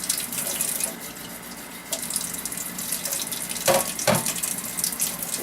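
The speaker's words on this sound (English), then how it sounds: "I'm going to start to fill up my bowl so I can get to his head" Tap water runs steadily into a bowl in a home sink, filling it to rinse a kitten during a bath, a close, continuous rushing splash with a few brief louder gushes and no talking.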